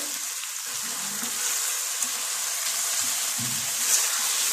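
Spaghetti sizzling in a frying pan while Singaporean rice is cooked, a steady close hiss of frying that holds evenly throughout with faint stirring clatter underneath.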